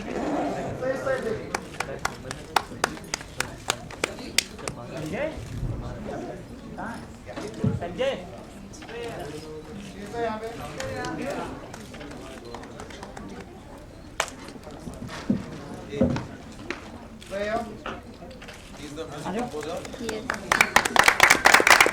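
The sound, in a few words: audience applause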